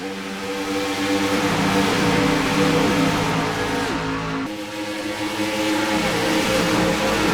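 Loud Nationwide stock car engines, including a Chevy, roar continuously at Michigan, with layered revving tones shifting as several cars pass on the track.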